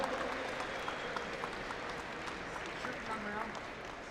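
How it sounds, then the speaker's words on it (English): Audience at an indoor national archery championship shoot-off applauds a placer, a steady broadband wash of clapping filling the whole moment with murmuring voices mixed in. "Give him a big round of applause."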